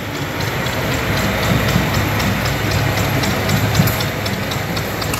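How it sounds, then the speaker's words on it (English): A 1921 Continental engine idles at a street parade, producing a loud, steady low rumble with regular rhythmic ticking throughout. "A John Doe, 1921 Continental engine."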